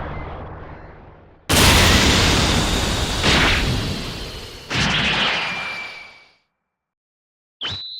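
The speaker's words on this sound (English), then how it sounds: "The explosion sending Vegeta flying." Explosions from the Dragon Ball Super anime, one blast sending Vegeta flying: three loud, sudden roaring booms in quick succession, each trailing off with a rushing tail, then a brief sharp high whoosh after a moment of silence.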